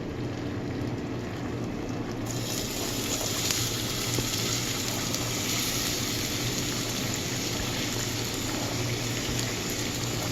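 Onions frying in a pan for beef lasagna: steady broadband sizzle and crackle, close and fairly loud, rising in brightness after a couple of seconds and continuing without talk.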